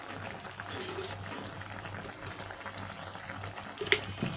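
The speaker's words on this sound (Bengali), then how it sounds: "হালকা করে নেড়ে একটু ফুটতে দেব" Chili chicken sauce bubbling in a pan, a soft steady simmer with a low continuous hum underneath and a brief clink near the end.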